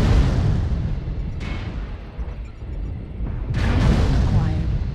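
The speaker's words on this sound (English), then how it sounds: "Artillery strike activated." Artillery strike in a mech combat video game: heavy, rumbling explosions with booming bursts rolling over a dense low roar, loud and close, with a synthetic game voice announcing events.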